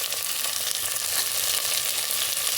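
Ginger garlic paste frying in a pan with onions, green chillies and shahi jeera, a steady close, loud sizzle with crackling spatter continuing evenly throughout.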